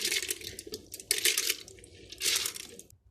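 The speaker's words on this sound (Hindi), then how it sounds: "मैंने जो दाल भिगो के रखी थी वो मैं अब इसको इसमें ब्लेंड करने के लिए डाल रही हूँ" Soaked lentils with a little water are tipped into a blender jar for dahi bare batter, giving wet sliding, splashing pours in a few bursts close to the microphone with no talk.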